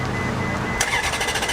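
A Ferrari's engine cranks over and fires into a loud bright roar partway through, preceded by a low starter churn, close and without talk.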